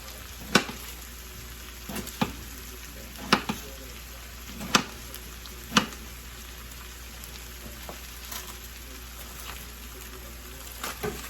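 Tomato and mixed vegetables frying in a pan, a quiet steady sizzle broken by a few sharp crackles and pops, heard alone without talk.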